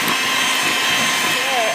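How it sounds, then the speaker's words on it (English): An electric mixer whirs loudly and steadily while beating egg yolks, cream cheese and stevia in a bowl, a constant motor drone with no break. "it's time to beat the egg yolks and the cream cheese and the Splenda"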